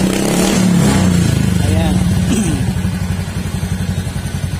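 A Honda Beat FI scooter engine with a misfire revs up and then settles into an uneven, stuttering idle with a sputtering pulse. Someone speaks briefly over the engine.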